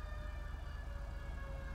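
Emergency vehicle sirens in the video game GTA V, a steady, continuous wail holding a constant tone at moderate distance, with no talking over it.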